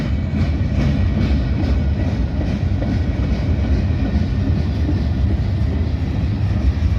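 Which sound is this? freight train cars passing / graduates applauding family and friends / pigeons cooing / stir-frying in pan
freight train cars passing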